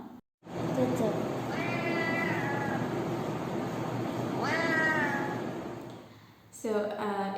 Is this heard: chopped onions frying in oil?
no